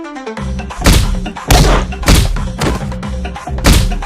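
Several dull, heavy thuds land roughly every half second during a staged comedy scuffle, as a group hits one person, loud and close with no talk over them.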